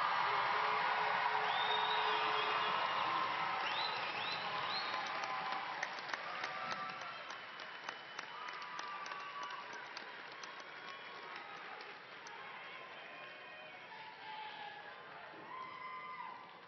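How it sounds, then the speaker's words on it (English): Graduates and guests applaud and cheer at the Angelo State University fall 2021 commencement. Broad clapping with scattered whoops starts loud, then slowly thins out over many seconds as isolated claps linger. "Round of applause."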